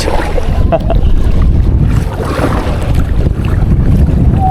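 Loud, constant wind buffets the microphone during kayak fishing, a roaring rush with a faint wash of water beneath it.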